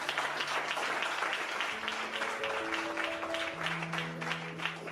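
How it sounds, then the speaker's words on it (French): Guests at an official wedding ceremony applaud steadily across the room, a dense, continuous patter of clapping with a few sustained tones sounding underneath. "Sous vos applaudissements."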